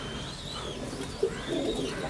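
A pair of imported yellow saddle frill pigeons gives soft, low coos against steady background noise, with one brief louder note partway through.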